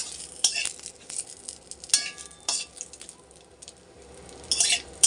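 Cumin seeds and a bay leaf fry in hot oil in a pan with a soft, steady sizzle, broken by sharp clinks and scrapes of a spoon stirring against the metal.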